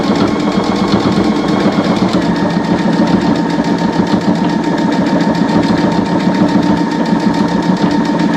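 A sewing machine stitches a quilted Valentine's Day wall hanging with a loud, rapid, continuous mechanical whir and rhythmic needle chatter running steadily throughout.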